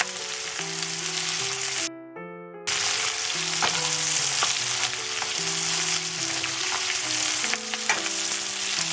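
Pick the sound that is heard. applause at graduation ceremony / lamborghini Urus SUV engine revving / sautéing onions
sautéing onions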